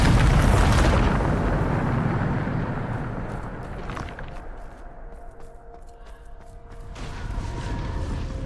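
A Bombarda spell blast in Hogwarts Legacy bursts loudly up front, then settles into a long, rolling rumble with debris, hum and faint tonal game sounds beneath.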